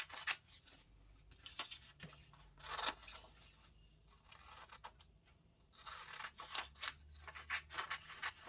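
Scissors snipping through material to cut out a shape about half an inch outside a marked line, for a Valentine's heart decoration made from fake flowers; repeated quiet close snips and crunchy cuts in irregular bursts, with no talking.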